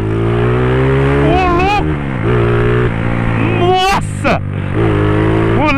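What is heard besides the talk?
tuned motorcycle engine revving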